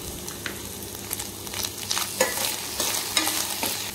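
Ginger-garlic paste and coconut paste sautéing in a pan for a ghevda (flat bean) dish, with a steady broadband sizzle and repeated scraping stir strokes, close and fairly loud, with no talking.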